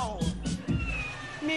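A cat meowing, with a few short, bright mews among murmured voices in a Brazilian sitcom scene, ending in a longer sustained cry; the calls sound close and fairly clear.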